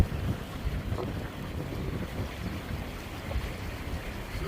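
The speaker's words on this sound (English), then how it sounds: "So that's just the high wind for like, 20 mile an hour for like 4 or 5 days." High wind of about 20 mph blowing steadily beside a flooded, overflowing bayou, a continuous rushing roar with buffeting on the microphone and no voices.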